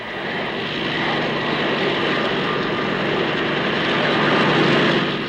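A 1950s twin-turbine transport helicopter, powered by two Napier Eland engines and seating 46, runs at a Farnborough air show, giving a loud, steady, broadband turbine roar and whine that holds without a break.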